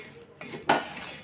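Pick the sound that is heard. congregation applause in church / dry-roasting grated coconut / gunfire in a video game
dry-roasting grated coconut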